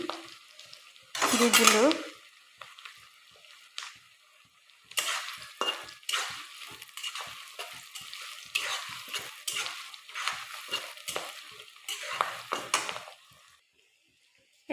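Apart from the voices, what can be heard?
whole spices cloves, cardamom, cinnamon frying and stirred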